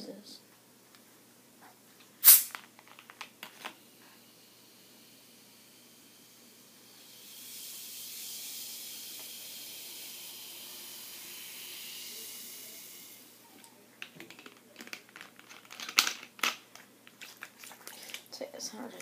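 Freshly poured Crystal Pepsi soda fizzes with a steady carbonated hiss lasting several seconds, preceded by a sharp click and handling sounds and followed by clattering noises.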